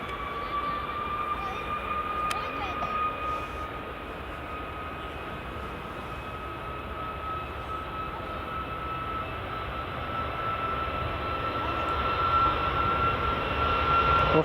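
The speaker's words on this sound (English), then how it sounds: "And here goes the Ryanair." A Ryanair airliner departs runway 24 at Edinburgh Airport for Alicante, its distant, steady engine rumble and hiss slowly growing louder over about fourteen seconds, with a thin high whine running through.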